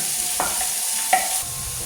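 Chopped onions fry over a high flame for chicken Manchurian, a steady close sizzle broken by two distinct scrapes of a spoon stirring through the pan.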